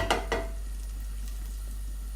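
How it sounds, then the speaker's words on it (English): Slices frying in hot oil, a soft steady sizzle and light bubbling under a constant low hum, with a couple of brief clinks at the start. "It's kind of bubbling a little bit. It means it is actually frying"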